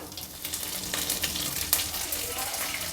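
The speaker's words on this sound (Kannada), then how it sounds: "ಎಣ್ಣೆ ಬಿಸಿಯಾಗಿದೆ ಸಾಸಿವೆ ಹಾಕ್ತಾಯಿದ್ದೀನಿ" Mustard seeds, urad dal, chana dal and curry leaves crackle in hot oil, a steady close sizzle with scattered sharp pops as the seeds burst.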